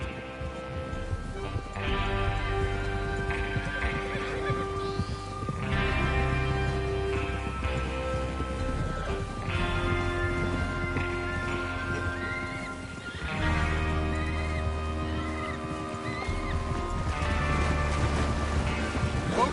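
Horses whinny and snort over a steady rumble of galloping hooves in the video game Red Dead Redemption 2, with dense layered music-like tones throughout; no talking.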